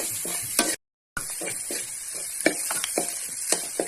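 Sugar and seasoning being stirred into food in a pan, with repeated scraping strokes and light clinks over a steady background hiss, close and fairly quiet, briefly cut out near the start.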